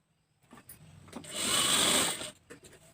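A sewing machine runs a short single stitch on blouse fabric during tailoring. It gives a close whirring burst of about a second, with soft handling taps before and after.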